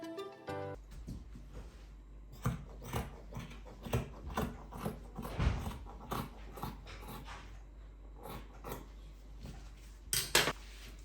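Scissors cut through fabric for a cowl kaftan with a front slit. The clip carries a quiet, close series of irregular snips and sharp clicks, with brief louder cuts in between.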